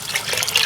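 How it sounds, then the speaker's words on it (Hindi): Water poured into a pot over soaked rice while cooking pulao, a short, close splashing trickle that runs continuously. "यहीं पर अब आप ऐड करेंगे पानी। पानी आप देखें इस तरह डालेंगे"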